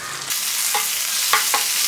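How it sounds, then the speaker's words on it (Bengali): Sliced onions drop into hot oil already fried with whole spices, bursting into a loud sudden sizzle that holds steady, broken by three quick scraping stirs of a spatula. "এখন এর মধ্যে কেটে রাখা পেঁয়াজ কুচিগুলো দিয়ে দিলাম"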